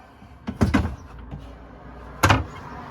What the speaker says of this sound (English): the bins, which just slide out